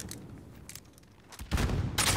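Incoming gunfire in Call of Duty Modern Warfare: faint scattered shots at first, then two loud, close bursts of rifle fire crack in the final second.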